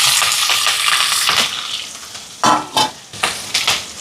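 Onion, curry leaves and green chili sauté in a hot pan for a chicken dish, a steady oily sizzle that fades, then gives way to sharp bursts of stirring and scraping against the pan.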